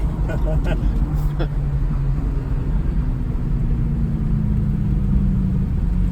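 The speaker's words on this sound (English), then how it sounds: "Similar sounding exhaust notes." Exhaust notes from two Italian exotic sports cars, one a Ferrari, at Monterey, a steady rumbling drone with slowly sliding engine tones running the whole time, fairly near.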